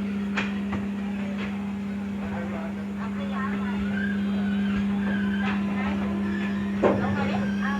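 The Diva Sawantvadi Express, a Konkan Railway passenger train, pulls away on a foggy early morning with a steady low rumble and hum, faint clanks and rattles of the carriages building gradually.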